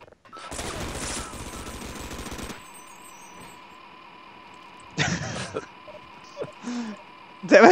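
An automated turret firing in Half-Life: Sven Coop: a loud, rapid two-second burst of gunfire, followed by scattered shots and impacts over a steady background hum.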